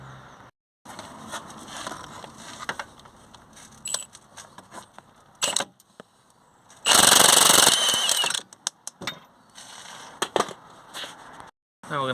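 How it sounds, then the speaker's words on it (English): An impact wrench with a 19mm socket loosens a front suspension strut bolt on a Hyundai i30 with a snapped coil spring. Loud, close hammering bursts of rattling come in several separate blasts with short quiet gaps between them. "on the impact wrench on that side."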